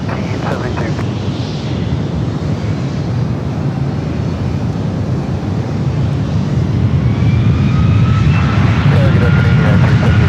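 A United airliner jet rolls for takeoff on runway 1 right at San Francisco airport, a steady loud broadband engine roar that swells slightly toward the end, with radio chatter faintly mixed in.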